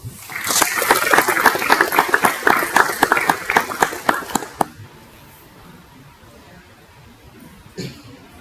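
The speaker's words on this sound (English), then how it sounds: "So real quick, another round of applause." Applause at a military retirement ceremony: a smallish crowd claps in distinct, sharp, fairly close strikes for about four and a half seconds, then stops, leaving quiet room tone with a stray sound near the end.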